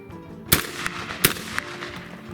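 A shotgun fires a reloaded shell, a hand-loaded hull on its sixth firing, giving sharp, loud reports that stand out clearly over a quiet background.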